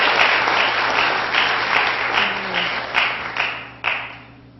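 An audience at a spelling bee claps in a room, a loud burst of applause that comes in several swelling waves, then fades and ends in a few last scattered claps.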